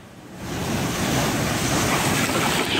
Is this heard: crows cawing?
no